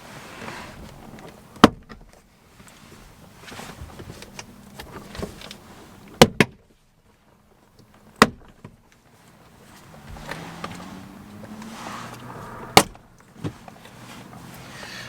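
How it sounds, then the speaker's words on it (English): Several sharp pops and snaps of plastic clips releasing at uneven intervals as a door panel is pulled off a Porsche 986 Boxster, with rustling and handling noise between them, close up. "Now the next step is just to pull the door panel away from the door."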